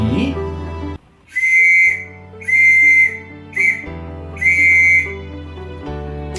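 Whistled Morse code spells the letter Q as four steady high tones, long, long, short, long, near and clean with short pauses between them.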